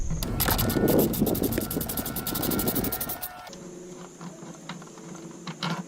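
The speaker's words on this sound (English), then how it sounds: "just removing this 10mm bolt on the body right here" Tool work on a 2018 Jeep Wrangler JL, loosening a 10mm body bolt to remove the air box: a dense run of quick ratcheting clicks up close, then a quieter stretch with a steady faint hum and a few light knocks.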